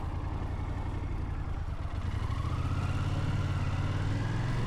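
Motorcycle engine in the Tatra mountains running steadily, a low droning rumble that builds slightly as the bike pulls away, close and continuous with no talk.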